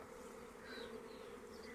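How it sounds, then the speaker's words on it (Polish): A soft, steady buzzing of many honey bees gathered on a cherry tree branch near a small hive hums continuously at low volume, with no voices. "Ale sporo tu pszczoły się zebrało."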